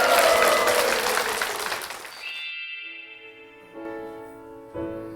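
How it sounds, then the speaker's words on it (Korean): Applause from a church congregation fills the opening seconds, a dense clatter of clapping that fades out around the two-second mark and gives way to soft sustained music. "이 축복의 박수를 부탁드리겠습니다"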